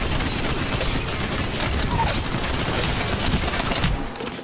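Gunfire in the Apex Legends video game, dense rapid bursts of weapon shots filling the whole stretch loudly and continuously, cutting off near the end.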